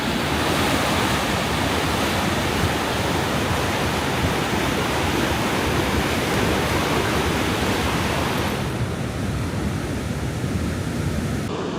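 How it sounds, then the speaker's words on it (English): Rushing turquoise river water from snowmelt near Petrohué Waterfalls, Chile, roars in a loud, steady, broadband wash with no breaks, close and continuous. "Over here we get our first peeks at some rushing waters"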